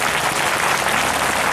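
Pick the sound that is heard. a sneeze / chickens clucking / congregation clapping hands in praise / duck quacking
congregation clapping hands in praise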